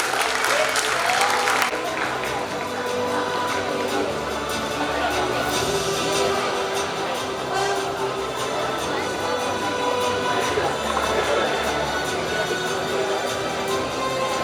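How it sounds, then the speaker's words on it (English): A big round of applause from the audience at a Model United Nations (MUN) ceremony, honouring a special mention award winner; sustained, dense clapping that fills the room throughout, louder at the start. "Please give him a big round of applause."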